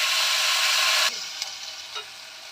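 Onion and potato dropped into hot oil tempered with black cumin, bursting into a loud, dense sizzle for about a second before it settles into a quieter hiss with a few small ticks and stirs.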